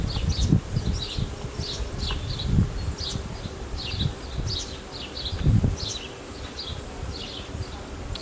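Honeybees buzz steadily around an open hive during an inspection, a continuous close drone with repeated louder passes of bees flying near, mixed with soft low thumps and rustles of handling.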